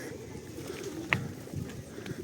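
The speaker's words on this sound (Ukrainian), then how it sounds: "голуби." Pigeons coo softly in low, throaty murmurs amid faint outdoor background noise.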